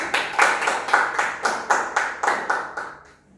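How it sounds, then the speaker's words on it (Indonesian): Classroom applause for a presentation group, a small group clapping in about a dozen quick rhythmic bursts that fade out after three seconds. "Beri aplaus kepada kelompok 1."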